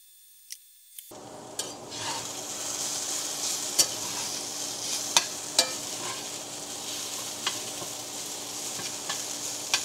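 Shredded potato hash brown frying in a pan gives a steady close sizzle, with a few sharp clicks of a utensil scraping and pressing the food.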